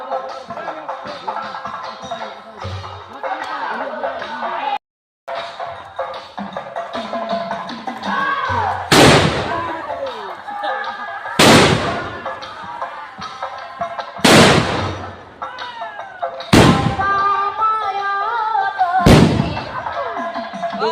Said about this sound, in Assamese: বোমাৰ আৱাজ চাব কেনেকুৱা আৱাজ বোমা।